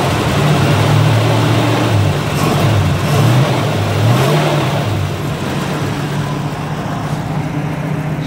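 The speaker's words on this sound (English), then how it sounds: "she just purrs, man. This is a really sweet car." A 1966 Chevy II 100, freshly tuned with new plugs, cap, rotor and hoses, runs with a steady, even engine note that holds close and fairly loud throughout, easing slightly toward the end.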